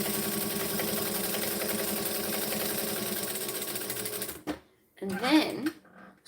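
A sewing machine runs steadily, close and continuous for about four seconds as it top stitches along a fabric edge of a pouch, then it stops and a voice speaks briefly.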